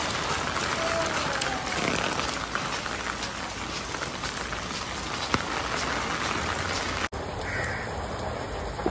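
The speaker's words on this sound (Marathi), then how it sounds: "थोडा चांगला पाऊस पडतोय" Steady rain pours in a continuous dense hiss that fills the whole stretch, close and fairly loud, with a crow cawing once or twice and a brief break near the end.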